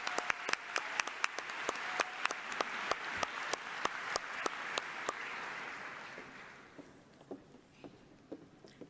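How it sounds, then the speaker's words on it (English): Audience at a Miami awards ceremony applauds in a room, a fairly faint spread of scattered clapping with sharp individual claps standing out, thinning toward the end. "Let's give them a round of applause"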